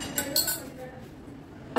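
Two eggs and two cups of sugar are mixed in a bowl, with a few sharp clinks of utensil on bowl early and near the end, separated by a quieter stretch.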